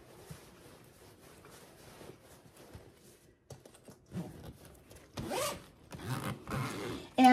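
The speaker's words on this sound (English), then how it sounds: "let me just zip this portion back up" A zipper being pulled shut on a packing suitcase, several quick rasping zips in bursts toward the end, close and fairly loud after quieter rustling and handling.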